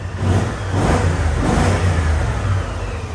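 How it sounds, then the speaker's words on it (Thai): A 2017 BMW 650GT motor scooter engine runs steadily at close range with a low, even hum and a slight rise in revs, no voices present. "เครื่องยนต์เดินนิ่งเงียบนะครับนี่"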